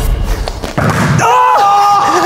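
A sharp slap on the buttocks given as a forfeit at a school, a single loud smack followed by excited shouting and chatter.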